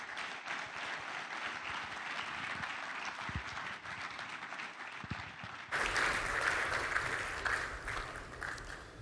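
Audience applause welcoming a speaker to the stage at The Platform Nigeria forum, a continuous clapping texture that swells louder partway through and keeps going to the end.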